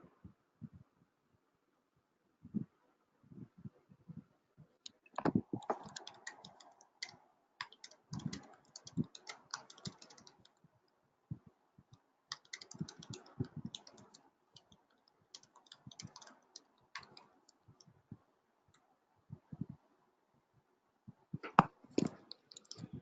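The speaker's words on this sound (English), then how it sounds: "let me just type on the chat." Someone types a chat message on a computer keyboard during an online orientation session, producing sparse, faint key taps that build into clustered bursts of clicking with pauses between them.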